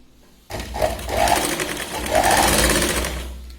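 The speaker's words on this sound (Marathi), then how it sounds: "अर्धा इंचावरती आपल्याला शिलाई लावून घ्यायची" A sewing machine stitches a blouse seam in a loud, close, continuous whir lasting about three seconds after a quiet start, with slight rhythmic variation in the motor.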